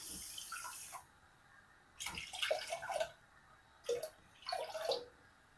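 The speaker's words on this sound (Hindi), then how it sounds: "सॉस पैन में 1 कप चीनी का डाल दें और साथ ही 3 कप पानी के डाल दें।" Water is poured into a saucepan of sugar for rasmalai syrup in three short splashing bursts separated by quiet gaps, close and moderately loud.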